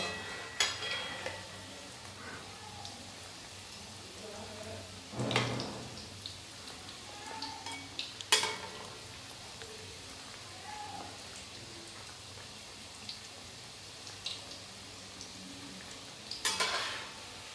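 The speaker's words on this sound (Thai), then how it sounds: "แล้วก็ทอดไปจนมีสีไง เหลืองทองนะคะ" Mixed vegetable pakoras deep-frying in oil: a steady, faint sizzle runs throughout, broken by occasional clinks of a utensil against the pan.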